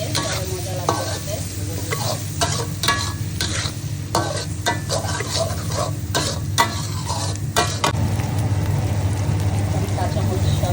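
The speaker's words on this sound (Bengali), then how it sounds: "এখন এখানে পেঁয়াজ আর রসুন ঢেলে দেবো।" Chopped onion and garlic hit a hot pan where fish was fried and are stirred, giving a steady loud sizzle with scraping stirs throughout and a low background rumble.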